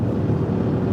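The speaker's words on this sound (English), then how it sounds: "that's the roof rack because it's so windy" Steady broadband wind roar from a Toyota Trailhunter's roof rack while driving on a windy day, a continuous low rushing drone with no speech over it.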